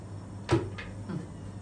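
A kitchen cupboard door in a new kitchen swings shut with one firm knock, followed by a softer secondary bump, close and distinct over a low room hum.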